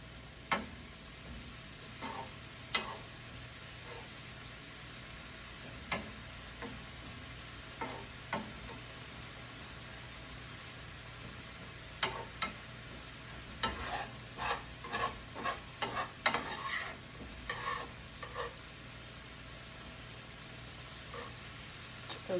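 Taco meat frying in a pan at home, a soft steady sizzle broken by scattered stirring scrapes and clicks, with a denser cluster of stirring strokes in the second half and no talking.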